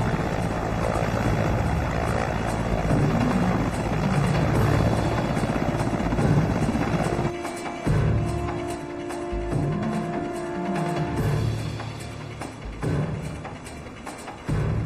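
A military aviation helicopter's rotor throbs loudly and steadily, close by, with the beating texture shifting partway through as the engine noise continues.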